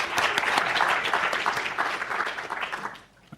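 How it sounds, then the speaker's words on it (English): An audience at a medical finals X-ray teaching session breaks into dense, sustained applause, loud and close, that fades out in the final half second. "Round of applause for that"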